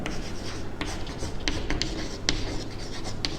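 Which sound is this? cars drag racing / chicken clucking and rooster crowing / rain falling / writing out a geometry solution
writing out a geometry solution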